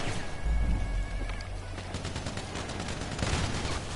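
A big gun in GTA 5 fires rapid bursts of loud gunshots with a heavy low boom underneath, the shots fading out toward the end.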